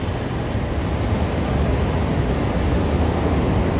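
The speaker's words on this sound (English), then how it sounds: "Now you hear the train behind me on Wabash." An elevated train on Wabash in downtown Chicago rumbles past in a loud, continuous low roar that builds slightly over a few seconds amid city street ambience, with no talking.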